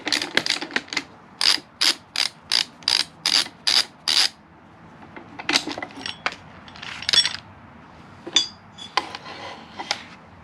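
A ratchet tightens a spring compressor on a shortened coil spring from a VW T5.1 strut, first a regular run of about ten crisp clicking bursts, then looser, irregular ratcheting and metal clatter, close and clear with no talk.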